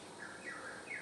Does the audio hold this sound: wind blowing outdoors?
no